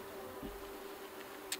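Honeybees buzzing in an outdoor bee yard: a steady, moderately loud hum with one clear tone, a few brief knocks and a short high click near the end, no talk.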